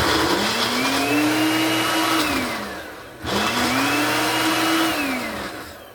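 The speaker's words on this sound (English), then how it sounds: "I'm just gonna puree this now" A blender pureeing sorrel whirs loudly and steadily, its motor pitch rising and falling in two long bursts with a brief pause between them.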